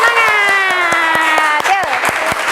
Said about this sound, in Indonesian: kasih tepuk tangan biar semangat